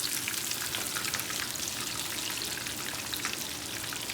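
A tonkatsu pork cutlet fries in hot oil, giving a steady, close, crackling sizzle that runs evenly throughout with no voices over it.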